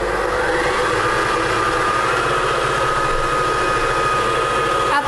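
A Kenwood stand mixer mixing bread dough with butter and water runs with a steady, close motor whir that stays even and fairly loud throughout, with no talking.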